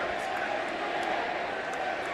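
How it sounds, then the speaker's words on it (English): Wrestling arena crowd cheering and roaring in a steady, dense wash of noise, loud and continuous throughout without breaks. "The crowd trying to get behind the APA right now, trying to spark something"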